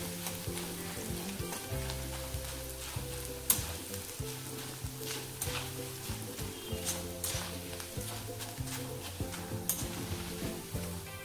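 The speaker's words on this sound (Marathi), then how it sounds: "तर अगोदर छान मक्की पोहे तळून घ्यायचे आहेत।" Maize poha (corn flakes) deep-fries in hot oil on full flame for Diwali chivda, giving a continuous bubbling sizzle with scattered crackles and faint metallic scrapes, moderately quiet and steady.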